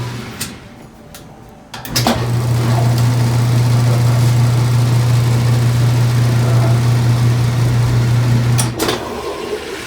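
A Whirlpool washing machine in spin mode, fitted with a new motor coupler, starts with faint clicks before a loud, steady motor hum rises and holds, then cuts back near the end.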